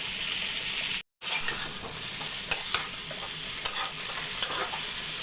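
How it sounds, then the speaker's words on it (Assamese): Chopped banana stem and fried potatoes sizzle in a pan in a home kitchen as they are stirred, with a steady frying hiss broken by sharp scraping clicks of the spatula. One brief gap of silence interrupts it. "পচলাখিনিয়ে আৰু ফ্ৰাই আলুখিনিয়ে এতিয়া ধুনীয়াকৈ এইখিনি ভাজি দিব"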